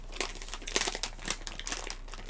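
A Twizzlers candy package is pressed closed with a steady run of close, soft plastic crinkling and crackling that lasts a couple of seconds, with nobody speaking.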